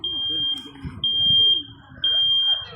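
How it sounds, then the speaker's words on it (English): A loud, piercing smoke alarm sounds during a test for smoke in a bedroom, beeping in three long, high-pitched tones with short gaps between, close by, over faint background noise. "The alarm may sound."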